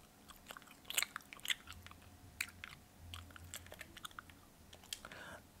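Close, quiet gum chewing with soft wet smacks and crunchy bites, mixed with scattered mouse and keyboard clicks during a Fortnite session.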